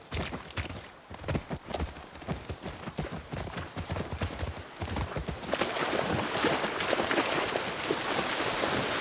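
Horse hooves clip-clop in a steady walking rhythm in The Last of Us Part II, fairly close, with a rush of wind or ambient noise growing louder toward the end.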